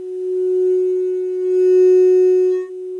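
A steady pure tone is sounded at a glass's resonant frequency. It holds one unwavering pitch with faint overtones for about three seconds, loud and close, then cuts off abruptly.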